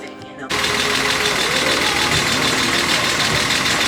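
A six-cylinder engine with a misfire runs steadily at idle after a sudden start, an uneven, lumpy rumble heard close and loud.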